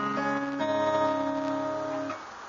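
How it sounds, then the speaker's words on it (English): Guitar strings plucked in a short sequence, notes ringing and overlapping, clear and close, then decaying near the end. "And follow it by plucking the A and the E together."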